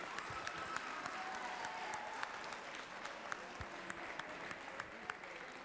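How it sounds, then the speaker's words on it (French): A crowd at a school cooking-competition awards event applauds in a moderate, steady round of clapping with a few sharper individual claps, heard from some distance in a large room. "Je vais vous demander vraiment de les applaudir"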